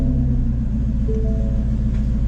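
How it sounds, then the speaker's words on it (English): Steady, low rumble of a Ford Mustang GT350 engine idling after a throttle body install, constant and even with no revs, close and loud, with no talking over it. "So we're going to restart the vehicle and let it idle for another 3 minutes."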